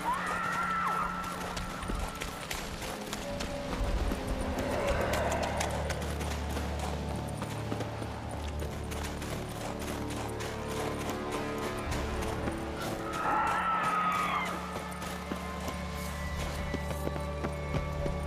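Horse hooves clip-clop steadily beneath layered music in The Witcher 3 on PS4 Pro, with a couple of loud neighs breaking through near the start and later.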